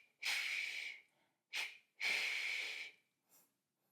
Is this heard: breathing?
yes